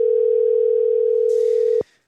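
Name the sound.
outgoing phone call ringing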